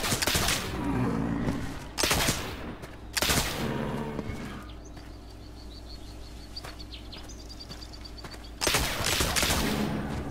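Gunfire from The Oregon Trail video game: three loud sharp shots in quick succession near the start, then a quieter stretch with chirping birds, and another loud burst near the end.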